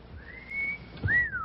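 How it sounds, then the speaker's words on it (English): A two-part wolf whistle: a rising, drawn-out note, then a second note that swoops up and falls away, fairly soft and alone. "a wolf whistle"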